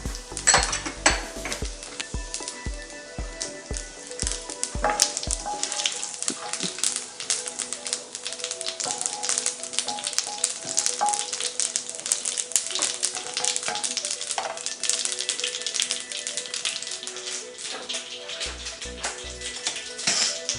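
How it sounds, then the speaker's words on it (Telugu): Tempering spices crackle and sizzle in hot oil as a spoon stirs and scrapes the pan, with steady close frying noise, metal clinks and a rapid run of sharp pops near the start, while preparing egg lemon noodles. "ఆయిల్ ఫ్రై అయింది. ఇప్పుడు తడ్కా వేస్తున్నాను."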